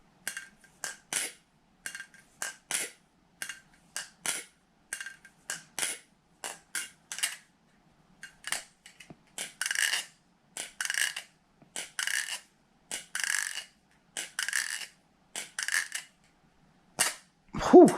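Crisp metallic clacks come in quick pairs and short flurries, the light snapping of a butterfly knife lubricated with KPL thick oil being flipped open and shut, close and otherwise quiet.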